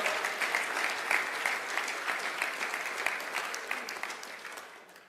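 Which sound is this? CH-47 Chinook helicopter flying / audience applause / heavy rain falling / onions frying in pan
audience applause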